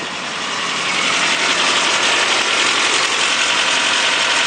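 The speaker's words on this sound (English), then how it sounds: "Running nice and smooth," A 5-speed Nissan car idling at about 27 degrees, a loud, close, steady engine drone that swells slightly at the start and then holds a smooth even level with no voices.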